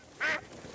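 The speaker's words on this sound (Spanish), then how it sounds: "¡Oh! ¡Un pato!" A single short, bright duck quack in a cartoon, standing alone over quiet background.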